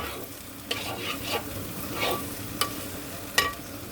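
Prawns fry with spices in a pan, giving a continuous close sizzle punctuated by several sharp stirring scrapes and clicks at irregular intervals, with no voices.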